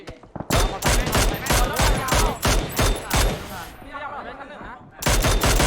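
Rapid bursts of video game gunfire crackle loudly in quick succession, pausing briefly before another volley erupts at the end.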